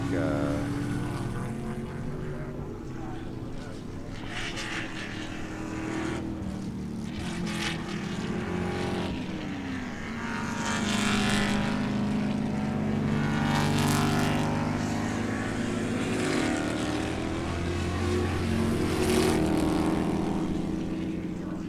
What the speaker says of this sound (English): here comes this big old pack of Spec Corvettes